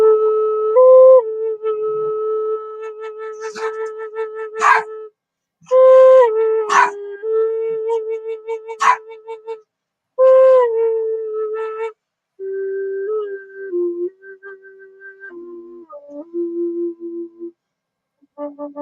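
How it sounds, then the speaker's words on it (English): A dog howls and yips along with a cedar D flute as it plays long sustained notes. The vocal cries rise and fall over the steady flute tones in several bursts, close and fairly loud. "excuse my dog, he tends to want to bark right when I'm playing"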